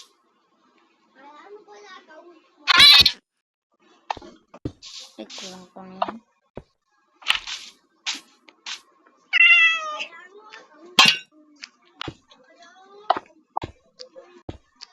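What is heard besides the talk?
cat meowing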